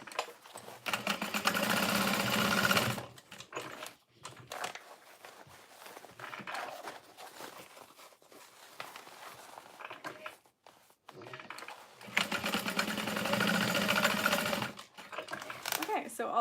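A sewing machine stitches darts on fold-over bags in two long loud runs, each a few seconds of steady whirring, separated by quieter handling sounds and some talk.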